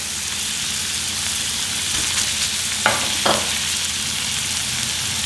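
Chicken tossed into fragrant spices in a hot wok fries with a loud, continuous sizzle, broken by two brief clatters of stirring.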